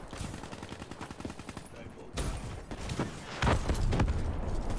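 PPSh submachine gun firing in Black Ops 3, rapid automatic bursts with sharp repeated cracks, then heavier booming shots later on, loud and close, with game noise in the background.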